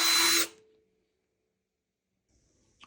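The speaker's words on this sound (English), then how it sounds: "Do I take the drill to this drum?" A power drill whirs briefly into a vintage Ludwig Supraphonic snare drum, a loud half-second burst that stops abruptly and leaves near silence, with a faint click near the end.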